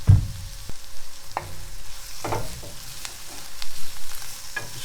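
Garlic frying in a pan alongside mirepoix and a little tomato, a steady low sizzle with a few stirring scrapes and clunks, close by and moderately loud, no talking.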